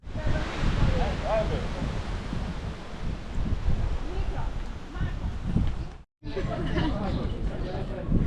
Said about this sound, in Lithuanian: Tai dėl šilumos nėra blogai, bet labai didelis vėjas.